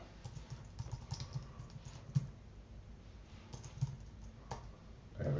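Computer keyboard typed on steadily for several seconds, a dense run of close, light clicks with a few sharper key strikes, no voice over it.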